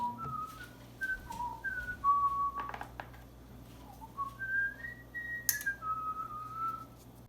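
A person whistles the Chrono Trigger theme melody, clear sustained tones that step up and down in a tune, close and alone, with faint clatter of food preparation around it.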